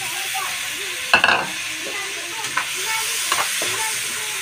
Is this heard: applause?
no